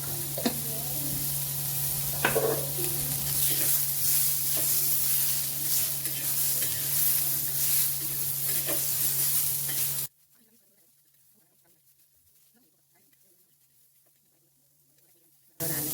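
Egg curry masala with tomato frying over a low flame in a pan, loud continuous sizzling with occasional stirring scrapes for about ten seconds, then near silence before the sizzle returns at the very end.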